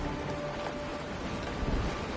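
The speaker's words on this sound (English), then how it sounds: "It is raining." Steady rain falls in the video game Honkai: Star Rail, a dense, even hiss of downpour filling the scene with no voices, with a faint low rumble near the end.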